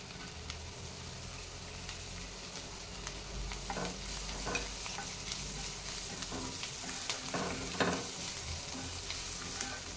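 Steady frying sizzle as green chilli, turmeric and coriander roast in a pan, a spatula stirring and scraping, scattered clicks and taps over a continuous hiss, close by.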